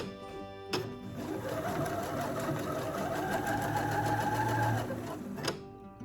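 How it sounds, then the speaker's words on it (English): A sewing machine stay stitching fabric runs in one steady, fast mechanical whir for about five seconds, with a click at the start and stop, close and alone. "I'm just kind of giving it a stay stitch right now"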